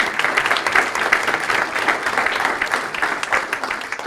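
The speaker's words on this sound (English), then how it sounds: "Round of applause." Steady, dense applause from an indoor crowd at a mayor's community breakfast fills the whole stretch, with many hands clapping at once at an even, moderate loudness.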